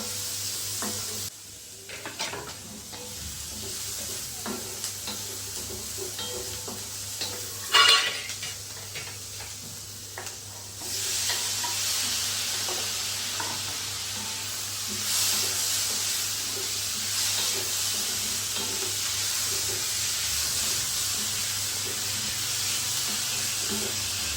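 Onions browning in a pan for dhaba-style paneer butter masala sizzle continuously, with a sharp clatter of a utensil midway, then the frying hiss grows louder and steadier, as if tomatoes had just been added; no talking.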